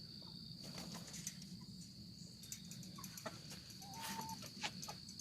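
Backyard chickens, a rooster among hens, cluck softly in a steady ambient flock murmur, with occasional short calls over a constant insect drone in the morning.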